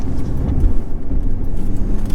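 A pickup truck's engine runs steadily while it pushes snow with a plow blade, giving a close, loud, low rumble that holds without pause through the short stretch.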